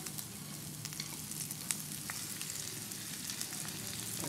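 Grated coconut sizzles steadily in hot ghee in a pan, a soft, even frying crackle with faint stirring scrapes and no talk.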